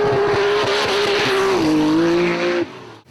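A drift car on a race track holds a loud engine note through a wide corner, the pitch dipping as it shifts into fourth gear and exits onto a straight, with tyre noise before the sound cuts off sharply near the end.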